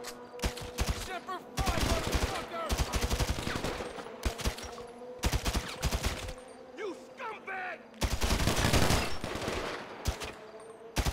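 Gunfire aimed at zombies in GTA 5, with rapid bursts of automatic shots coming in several loud clusters separated by short pauses, and someone talking between and over the volleys.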